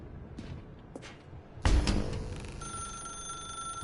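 A telephone in The Stanley Parable Ultra Deluxe rings with a steady electronic tone, close and clear, just after a dull thud, with no talk over it.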